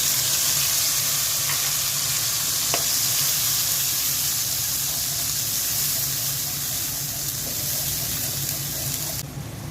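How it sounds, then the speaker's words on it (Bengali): An onion and tomato blend sizzles steadily in hot oil left over from frying fish, a loud, even hiss that runs unbroken throughout with a few faint clicks. "মাছ ভাজা তেলের মধ্যে পেঁয়াজ আর টমেটো ব্লেন্ডটা দিয়ে দিচ্ছি।"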